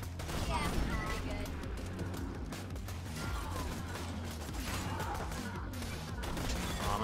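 Rapid gunfire in the video game Borderlands 2, dense bursts of shots with mechanical clatter running throughout, with a voice talking over it.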